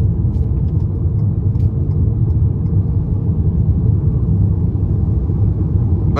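A 2023 Ford Maverick XLT with the 2.0-liter turbocharged EcoBoost engine driving, giving a steady, loud low cabin rumble of engine and road noise with no talking.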